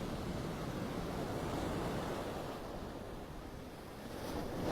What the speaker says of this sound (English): There comes a big wave.